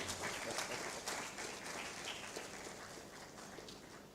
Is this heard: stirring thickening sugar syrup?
no